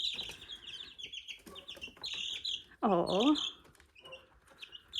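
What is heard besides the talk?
chickens clucking on hobby farm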